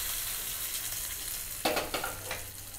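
Curry leaves dropped into hot oil for a tomato and onion chutney, giving a sudden crackling sizzle that flares up sharply, then settles into softer popping over a steady background hiss of frying.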